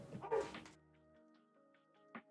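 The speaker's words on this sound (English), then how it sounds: "the hell is he barking at?" A dog gives a single muffled, close bark at the start, followed by quieter tonal whimpering and a short faint yip near the end, heard indoors without talk.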